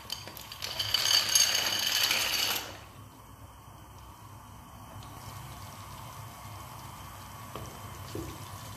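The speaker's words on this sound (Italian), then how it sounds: "L'acqua bolle e io butto giù subito i miei tortiglioni" Tortiglioni pasta tipped into a pot of boiling water makes a watery rush and splash for a couple of seconds, then settles into a quiet, low simmer with faint clinks.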